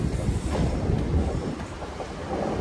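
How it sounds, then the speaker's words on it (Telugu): MEMU train pulling into Mangalagiri station, a steady loud low rumble of wheels and carriages that stays constant throughout with no voices. "మన ట్రైన్ అయితే ఇప్పుడే మంగళగిరి స్టేషన్లోకి ఎంటర్ అవుతుంది"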